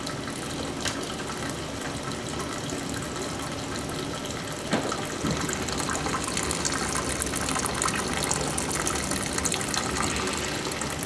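Maple syrup runs steadily from a wood-fired sugar evaporator, a continuous gushing, trickling water-like flow that stays close and fairly loud throughout, with no talk.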